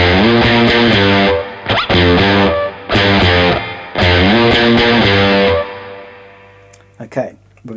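Distorted electric guitar plays a riff on a single string, loud sliding notes in bursts with brief gaps, ending in a fainter fading tail.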